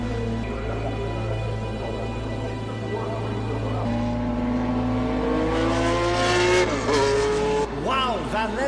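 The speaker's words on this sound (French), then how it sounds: "Wow, Van Lennep hits the loud pedal" A Porsche race car at the 1970 Le Mans race accelerates hard, its engine note climbing through rising revs and gear changes over a loud, close racing roar, with a commentator talking over it.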